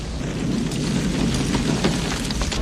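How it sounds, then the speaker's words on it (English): A gas explosion in a film blasts a man out of a building, a dense, loud, rumbling roar that fills the whole stretch steadily with no speech. "he lights the trail and sets off an explosion that flings Miguel out of the"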